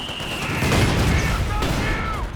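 A Panzerschreck rocket strikes a target in Company of Heroes 2, a loud booming blast within a dense wash of battle gunfire and rumble, with someone talking over the noise.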